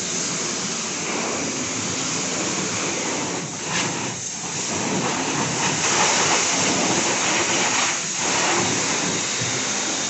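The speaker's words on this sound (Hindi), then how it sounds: "गाड़ी पे पानी मार रहे हैं।" Water sprays onto a car at a car wash as a steady, loud hiss that runs unbroken for the whole stretch, dipping briefly now and then, with no voices.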